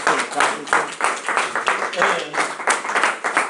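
Applause for Jay at a club meeting: a short round of clapping from a small group, with bursts of claps and voices mixed in.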